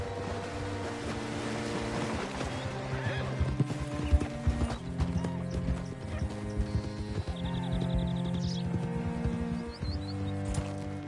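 Horse hooves clip-clopping in a Western video game, a steady rhythmic trot with an occasional whinny, set against layered in-game music and ambience at moderate level.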